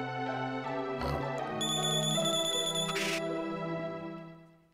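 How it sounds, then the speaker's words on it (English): Little birds with bells in the Chrono Trigger video game, bright tinkling chimes sounding over steady game music, loud and close, with no talk. "Damn those little birds with bells"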